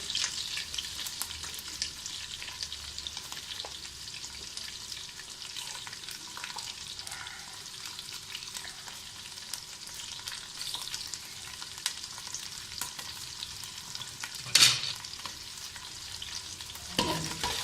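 Garlic, ginger and green chilies fry in a pan with a constant soft sizzle, broken by occasional scrapes of stirring and one sharp clatter near the end, no talking.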